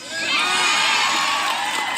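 A loud crowd of protesters gathered outside a politician's house, their voices merging into a dense, continuous roar of shouting and cheering that swells in quickly and holds steady for two seconds, close and with no talking over it.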